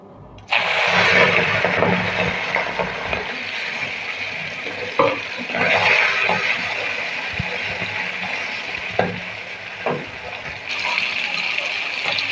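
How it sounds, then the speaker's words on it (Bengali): Small native puti fish drop into hot oil and set off a loud, crackling sizzle that stays strong. Occasional utensil taps and a faint voice come through the frying. "তেলটা গরম হয়ে গেছে, মাছগুলো ভেজে নেব"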